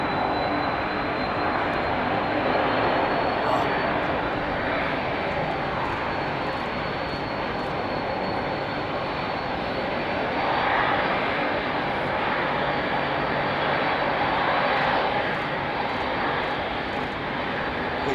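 Steady, loud roar of Rolls-Royce airliner jet engines at London Heathrow Airport, a continuous broadband rumble with a faint high whine, holding level throughout with no voices.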